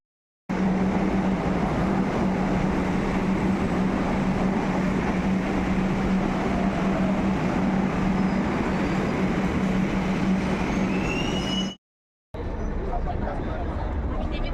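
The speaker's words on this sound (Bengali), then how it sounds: "দেখো আবার একটা যাচ্ছে মেট্রো।" A Kolkata metro train passes through an underground station with a loud, sustained rumble and roar and a faint high screech, then cuts off abruptly, with voices faintly underneath.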